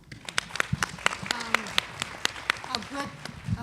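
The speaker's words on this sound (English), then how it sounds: "Give her a round of applause." An audience applauds at a Black civic participation gathering, with clapping spread through a crowd and a voice speaking over it, the sharp claps standing out close to the microphone.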